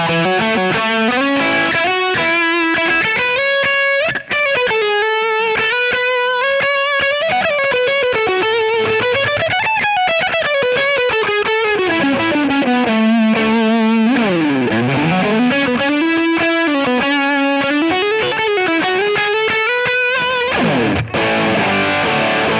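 Distorted electric guitar played through a Kingsley Jouster overdrive pedal with its second channel engaged, loud sustained notes and sliding bends over a continuous driven tone, with no talking.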